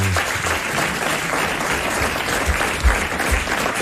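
Studio audience of a French TV talk show applauding loudly and continuously, a dense wash of clapping close and full, with occasional low thumps underneath and no clear speech.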